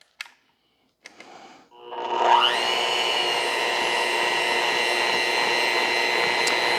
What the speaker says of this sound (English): We're just going to mix this until it's well combined.